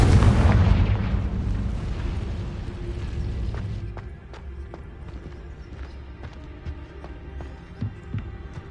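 A Confringo spell explodes in the Hogwarts Legacy video game, a loud, deep boom at the start that rumbles and fades over several seconds, followed by quieter, scattered taps and clicks.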